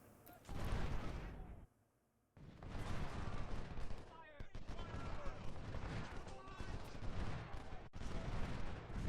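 Massed infantry musket volleys crackle in the Civil War strategy game Ultimate General, with dense rolling fire after a brief pause and a sharp shot near the end.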